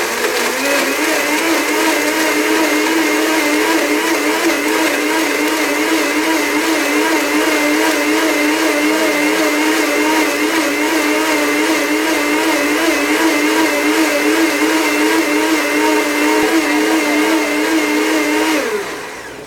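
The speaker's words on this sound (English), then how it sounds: "so we're going to blend it together until it's very smooth" A blender runs continuously for about nineteen seconds, blending pumpkin seed eggnog for a raw food class, with a loud, steady whirring drone that wavers slightly before cutting off at the end.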